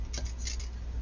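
Cutters snipping through a necklace chain, a few quick crisp clicks close by over a low steady background hum.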